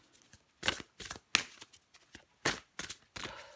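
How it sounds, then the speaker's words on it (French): Tarot cards are handled as another card is drawn: a series of crisp, close card slaps and flicks in an irregular rhythm against near silence. "Allez, je prends encore une carte pour vous, les vierges"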